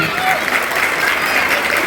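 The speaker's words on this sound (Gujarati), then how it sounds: "એકવાર જોરદાર તાળીઓ 17 સભ્યોના આપો" Loud, sustained applause from an audience at a Gujarati community gathering, honouring the event organizers, with dense clapping across the whole stretch.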